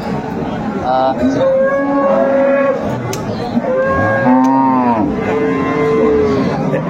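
Calves and cattle moo repeatedly at a busy livestock market, with long tonal calls rising and falling across the whole stretch over a steady crowd murmur and occasional voices.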